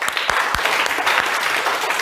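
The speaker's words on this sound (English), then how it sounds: "So, let's applaud them." A school audience applauds students with brisk, continuous clapping from many hands, loud and close, lasting a couple of seconds without talk.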